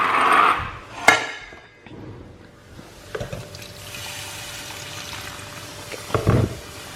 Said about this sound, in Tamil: சர்க்கரையும் போட்டு கொஞ்சம் தண்ணியும் விட்டுருங்க